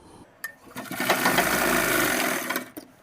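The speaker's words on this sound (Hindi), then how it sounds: "तो सिलाई लगाने के बाद दोस्तों इसमें हम एक बार और सिलाई लगा लेंगे जिससे हमारी जो है मजबूती अच्छी तरीके से हो जाए।" A sewing machine runs a single steady stitching burst of about two seconds along a half elastic pant, whirring up and winding down close by, with light clicks of the fabric being handled before and after, and no talking.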